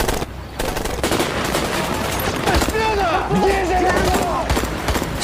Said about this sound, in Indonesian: penembakan terjadi dari pasukan Rusia sendiri hingga menyebabkan pecahnya pertempuran